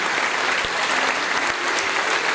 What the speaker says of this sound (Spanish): Vamos, aplaudir fuerte.